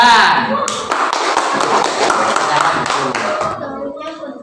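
A classroom of students applauds a group's performance, a burst of clapping and tapping that swells and then tapers off, with a teacher's voice briefly over it.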